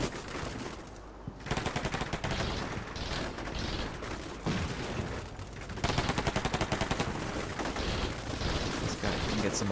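Sustained firefight in Combat Mission: Shock Force 2, with dense, overlapping rifle and machine-gun bursts crackling almost continuously at steady loudness, plus a brief lull near the start.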